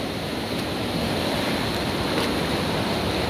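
Steady rushing water of the Anzu River in Ecuador flowing over rocks, with a broad, constant roar, close and loud, with no voices over it.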